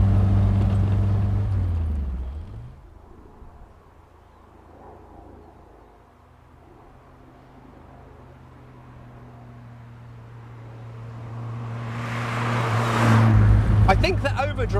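A Triumph Spitfire Mk4 cruises at 50 mph and 3,500 rpm, its engine a steady droning hum from inside the car that eases down, holds, then rises again, with a rushing swell of wind or a passing vehicle near the end.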